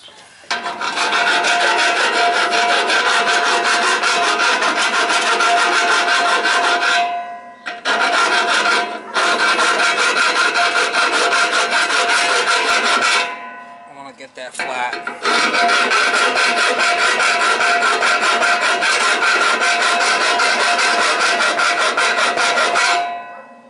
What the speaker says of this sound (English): I'll hit it with a file maybe. Hit it with a file.